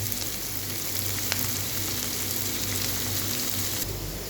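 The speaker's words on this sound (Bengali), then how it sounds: "রসুন দিয়ে দিলাম বাগার এরপর দিয়ে দিলাম কাঁচামরিচ এবং পেঁয়াজ মেরে নেব" Garlic, green chilies and onions fry in hot oil with a continuous, even sizzle close to the pan, a faint clink partway through and no talking.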